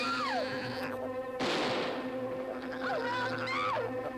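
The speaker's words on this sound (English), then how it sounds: "I haven't seen a wasp that big since the Nixon years." Buzzing of a very large wasp, a droning whine with pitch swoops and a loud burst partway through, steady and close throughout.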